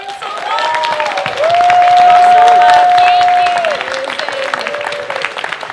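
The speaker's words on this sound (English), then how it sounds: "Give everyone a round of applause." Convention panel audience applauding, a sustained burst of clapping and some cheering from the crowd in a hall, with a sustained whistle-like tone running through the middle and voices mixed in.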